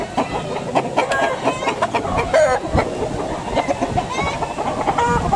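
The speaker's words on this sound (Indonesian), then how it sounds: "Ayam hias mah. Ayam hias." Ornamental cotton chickens with soft, fluffy feathers cluck repeatedly at close range, short irregular calls over a busy background of farmyard noise.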